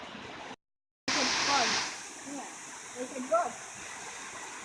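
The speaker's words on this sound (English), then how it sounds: "get some nice shots of the waterfalls while we're here" Waterfall at Cascade Falls in Saco, Maine: a steady rushing wash of falling water that runs through the whole clip, briefly cut out near the start, with people talking over it.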